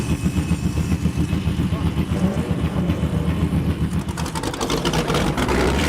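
A race car engine at Denver Raceway starts and settles into a loud, rough, pulsing idle close by, with a few revs building toward the end.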